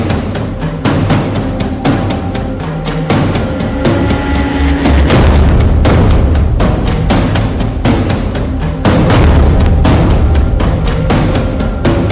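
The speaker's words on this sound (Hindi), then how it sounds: "आग उगल रहे हैं रॉकेट लॉन्चर।" Rocket launchers firing in the Russia-Ukraine war: loud, dense rumbling blasts and booms follow one another in rapid succession, with a sustained roaring launch stretch in the middle, heard at a distance.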